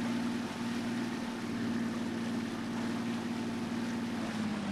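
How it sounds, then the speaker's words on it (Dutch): A boat motor drones steadily at sea, a constant low hum with wind and water noise, unbroken and fairly close with no talking. "Hier moeten we de motor uitzetten."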